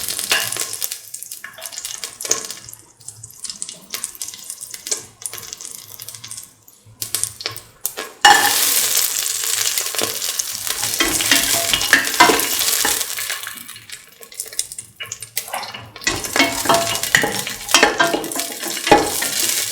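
Cashew nuts fry in a pan for a sweet coconut milk pasta, a continuous crackling sizzle broken by scraping stirring strokes that rise and fall in loudness, with no voices.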